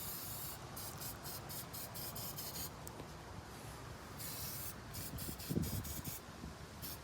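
An aerosol can sprays battery terminal protector onto semi-truck batteries in a run of short, hissing bursts, fairly faint and close, with no voices.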